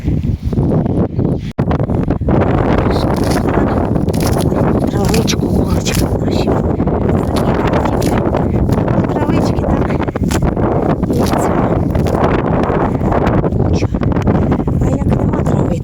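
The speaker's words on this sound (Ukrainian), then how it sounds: "Вітер бішаний такий" Loud, continuous wind buffeting the microphone with a rough roar, with a voice speaking faintly beneath it.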